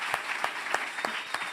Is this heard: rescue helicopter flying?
no